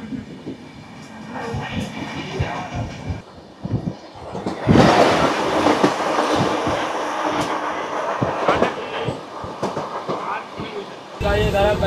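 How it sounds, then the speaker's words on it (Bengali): Saraighat Express running on rails toward Guwahati, heard from aboard with rhythmic clickety-clack of wheels over joints, a louder rushing swell midway, and voices now and then. "বর্ধমান স্টেশন ছেড়ে আমাদের ট্রেন এগিয়ে চলেছে গুয়াহাটির দিকে"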